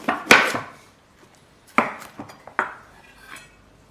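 A knife cuts a capsicum in half on a board, a few sharp crunching cuts and knocks spaced apart with quiet between.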